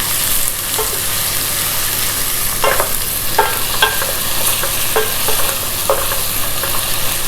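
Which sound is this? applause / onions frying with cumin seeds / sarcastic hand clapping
onions frying with cumin seeds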